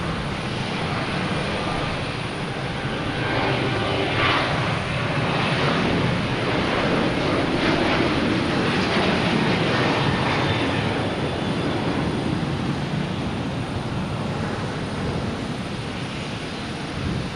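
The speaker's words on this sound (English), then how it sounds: "That Southwest taking up to Denver." A Southwest airliner takes off from Boston Logan Airport bound for Denver, a sustained, even jet roar heard from the ground at a distance, swelling slightly mid-way and holding steady for many seconds.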